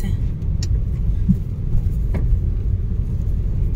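Steady car traffic rumbles along a busy city avenue in Mazatlán, a continuous low drone of passing vehicles with a couple of brief louder passes, while people talk faintly over it.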